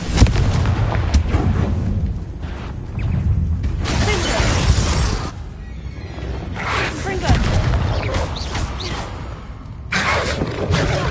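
Repeated Confringo blast spells in Hogwarts Legacy burst with loud shattering booms, several explosions spaced across the stretch, each followed by debris and rumble.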